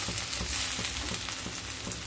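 Maggi noodles shaped into a bird's nest fry in a pan over low heat, giving a steady, soft crackling sizzle that runs unbroken throughout, with no voices.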